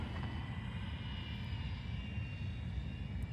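Small electric RC F4U Corsair model, a 500mm Volantex, flying a touch and go: a thin, steady motor whine with high harmonic tones droning continuously outdoors, with a few faint clicks.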